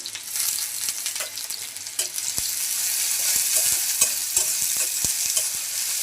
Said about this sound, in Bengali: তেল গরম হয়ে গেছে দিয়ে দেবো পেঁয়াজ কুচি দিয়ে দেবো থেতো করা রসুন